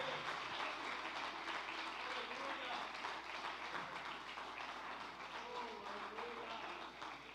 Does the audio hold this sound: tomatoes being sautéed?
no